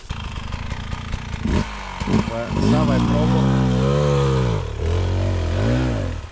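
A Beta 300RR two-stroke motorcycle engine idles and then revs up several times, giving loud, close, rising and falling wails, with someone talking briefly near the start.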